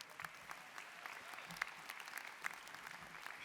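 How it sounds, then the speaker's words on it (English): Steady applause from a crowd at a Central Saint Martins graduation ceremony, many hands clapping continuously at moderate distance, with a few sharper claps standing out. "so like applaud yourselves"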